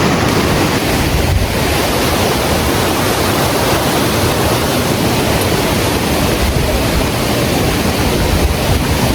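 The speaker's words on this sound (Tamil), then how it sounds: "வாட்டர் ஃப்ளோ ஓரளவுக்கு நல்லா இருக்குது மக்களே" Bheeman Falls waterfall in the Jawadhu Hills pours in a loud, constant broadband rush that stays steady and unbroken throughout, with no voices.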